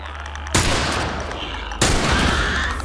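Pistol gunfire in The Last of Us Remastered, two loud shots about a second apart, each followed by a long sustained booming echo that fills the short span.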